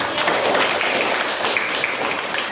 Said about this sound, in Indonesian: Kita berikan aplaus dulu untuk kawan-kawan yang